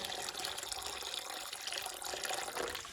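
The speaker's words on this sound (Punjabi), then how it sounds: "ਲਓ ਬਈ ਪਾਣੀ ਪਾਤਾ" Water pouring steadily, a continuous splashing rush close by with no voices.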